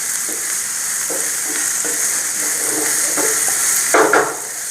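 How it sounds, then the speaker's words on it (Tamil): Onions, capsicum and green chilli frying for egg bhurji, a steady hiss of sizzling oil broken by repeated scraping strokes of a spatula stirring in the pan, louder scrapes near the end. "இந்த கலக்கிற டைமில் இந்த வெங்காயம் இதெல்லாம் நல்லா வணங்கிட்டுருக்கும்."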